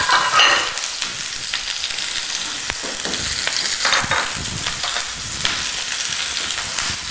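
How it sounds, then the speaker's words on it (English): Broccoli, onions and mushrooms sauté in olive oil in a hot sauté pan, giving a loud, steady sizzle with occasional stirring scrapes and no talk. "To a nice hot saute pan, I will add olive oil. To that I will add broccoli and onions and mushrooms."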